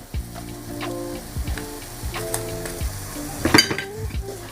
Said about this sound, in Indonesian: Ini ditumis-tumis sampai mengeluarkan aroma yang harum ya teman semua